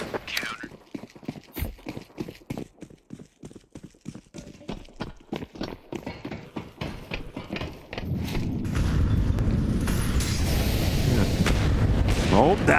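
Rapid bursts of AK-47 rifle fire from Counter-Strike 2 crackle in quick succession during a pro match on the Nuke map, under excited casters' voices, before giving way to a dense, steady roar.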